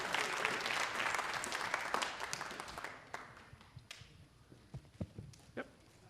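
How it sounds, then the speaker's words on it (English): Congregation applause at a Sunday morning church service, dense clapping for about three seconds that thins out into scattered, fading individual claps and a few shuffling sounds. "Let's give Jack a round of applause."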